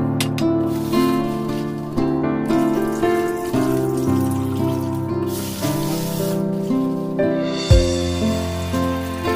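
Running tap water splashing as ingredients for arrowroot soup are washed, a continuous close gush that shifts in pitch as items move under the stream, with occasional knocks.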